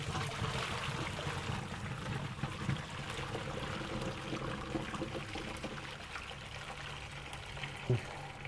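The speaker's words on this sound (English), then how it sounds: "You could just dump the water." Water poured out of a pot of boiled bones while making pho, a steady gurgling pour heard up close and fairly quiet, continuing without pause.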